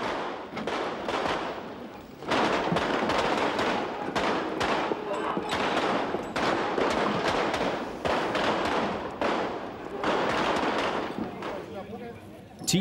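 Dense bursts of police gunfire during a street riot in Nørrebro, Copenhagen, in May 1993, loud rapid volleys of cracking shots repeating over several seconds with a voice speaking over them.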